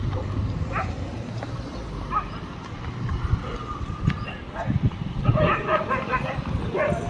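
Loose dogs bark and yip intermittently in the distance over outdoor rumble and a mare's hoofbeats, with a voice talking at times.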